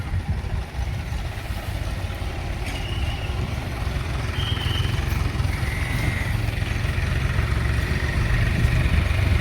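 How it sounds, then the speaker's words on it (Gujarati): A tractor engine idles steadily at a Holi bonfire preparation site in a colony, a continuous low rumble that stays loud and close throughout, with no talk over it. "આ ટ્રેક્ટર આવી ગયું છે"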